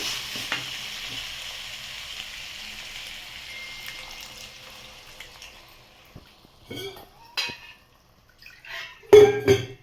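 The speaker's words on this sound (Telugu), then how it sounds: "ఇప్పుడు కాస్త పాలు పోసేస్తున్నాం" A pan of ridge gourd curry sizzles and simmers steadily, then the hiss fades as milk is poured in, and a few clinks and stirring knocks follow near the end.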